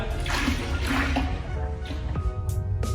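Paddle stirring two-part garage floor epoxy in a bucket, thick wet sloshing and squelching strokes repeating every half second or so, close and continuous for a few seconds.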